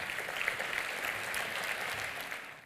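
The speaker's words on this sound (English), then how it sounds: "Please give them a round of applause while they approach the stage" Steady applause from an audience at a Hall of Fame induction ceremony as honored community supporters approach the stage, a dense even patter of many hands lasting throughout without a break.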